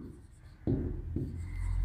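A pen writes on paper during a primary maths lesson. Two short, close scratching strokes sound over a quiet room, and a low hum grows toward the end.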